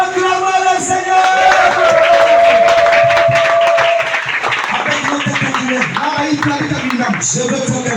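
A church congregation at a lively worship service cheers and acclaims the Lord, a loud, dense crowd roar with clapping and voices, a sustained sung or shouted tone running under the mass of noise.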